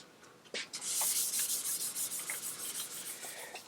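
Sandpaper rubbing across a guitar body's finish during fine-grit polish sanding, a steady close scratchy hiss in repeated even strokes, with no one speaking.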